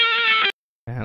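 Music heard through a Placid Audio Copperphone vintage-style microphone, giving a thin, boxy, filtered tone; a brief sustained chord cuts off, then after a short silence another tone starts, loud and close.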